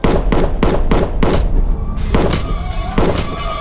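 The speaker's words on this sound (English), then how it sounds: "Another guy arrives and shoots." A burst of movie gunfire: about eight sharp, loud shots come in an uneven rapid series, with a short gap in the middle, and there is no talking.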